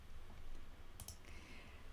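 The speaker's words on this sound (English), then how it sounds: "just use the arrows on your keyboard and it just basically nudges it for you" Computer keyboard arrow keys give a few faint, quick clicks close by against a quiet room background, with no talk.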